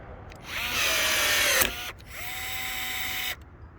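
A power drill boring a screw hole during an emergency repair on a 2017 Thor Palazzo motorhome: two loud, steady whirring bursts of about a second and a half each, split by a short pause, close up with no talking.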